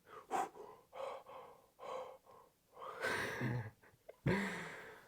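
A voice imitating mouth breathing, a series of audible breaths in and out through the mouth, close and moderately loud, ending with a couple of louder gasping inhales.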